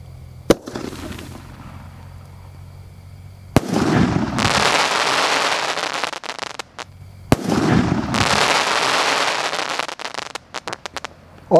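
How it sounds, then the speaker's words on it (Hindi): A Shri Krishna American Sky Shot Diwali firework goes off in repeated sharp launches, each followed by long crackling bursts and pops, loud and close, with short gaps between volleys. "अब टेस्ट करते हैं श्री कृष्णा के अमेरिकन स्काई शॉट का, और देखते हैं ये कैसा चलता है।"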